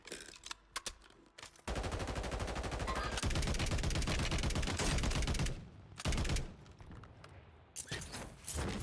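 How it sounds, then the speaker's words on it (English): Rapid automatic gunfire from a weapon in the Warzone video game, loud and close, with long sustained bursts broken by short pauses and a few brief clipped shots near the start and end. "Oh god, this gun is fucking shredding."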